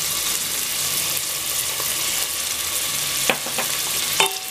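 Chopped garlic and onion sautéing in a pan for a tomato soup, a continuous soft sizzle with a couple of sharp utensil clicks near the end, close and steady, no talking.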